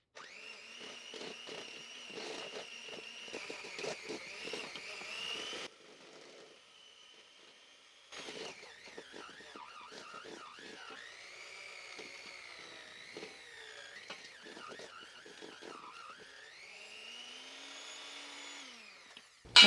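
Chocolate cake batter mixed with cold coffee and vanilla, a steady whirring electric mixer that drops out briefly, then resumes with shifting pitch as the batter smooths.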